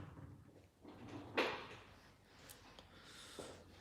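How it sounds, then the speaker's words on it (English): Drawers in a home are pushed shut during a nail-painting session, with a sharp knock near the middle and a fainter bump toward the end over a quiet room. "And close the drawers here."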